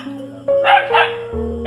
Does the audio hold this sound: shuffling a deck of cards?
no